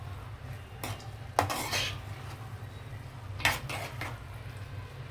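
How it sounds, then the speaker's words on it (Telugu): Millet kichidi being stirred in a pot on the stove, a few scraping clinks of a spoon against the pot in separate bursts over a faint steady background hum. "ఓకే, ఒకసారి కలుపుతాను."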